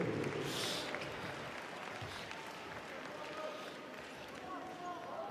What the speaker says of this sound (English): the crowd getting louder